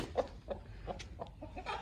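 A rooster making a series of short, clucking calls, fairly close and moderately loud, with brief pauses between them.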